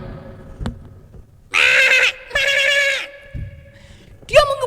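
A flock of goats and sheep bleating loudly, two long quavering calls close together followed by a shorter one, with a brief sharp knock early on and quiet background noise between.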